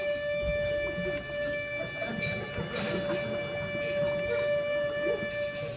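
At a dinner event, a voice imitates a shofar tekiah blast, holding one long, steady, horn-like tone. It is fairly faint over a murmuring room background.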